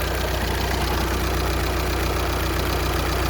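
A 2014 VW Passat TDI diesel engine idles just after starting, with a steady, loud, even clatter that continues unbroken and has no voices over it.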